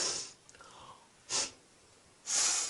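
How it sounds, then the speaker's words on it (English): Three sharp nasal sniffs, made to show disapproval, come close and clear with pauses between them and no other sound. "How do I show disapproval? Easy. You sniff."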